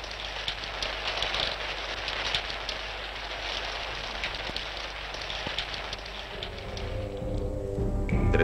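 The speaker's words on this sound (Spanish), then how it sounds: "la lluvia caía como cortina y dosel adecuado al dios de las nubes y de la fertilidad" Heavy rain falls on Mexico City in a constant broad wash with scattered drop clicks, joined near the end by a low rumbling drone.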